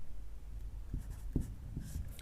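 Pen writing a slope formula on a page during a class 10 coordinate geometry lesson, a few short, quiet scratchy strokes close to the microphone, no talking.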